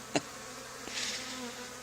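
A honey bee swarm hums steadily from an old barn, with a faint continuous buzz and a few brief nearer passes of individual bees.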